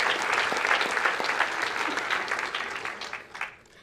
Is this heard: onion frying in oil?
no